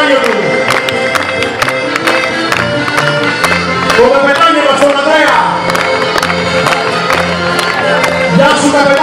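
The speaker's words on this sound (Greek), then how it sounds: "Ένα χειροκρότημα για το υπέροχο" An audience at an evening barcarolle music performance in Assos, Kefalonia, claps and cheers loudly, steady applause with whoops and shouts mixed in, music lingering underneath.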